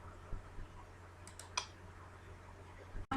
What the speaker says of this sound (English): Then you have to click on save.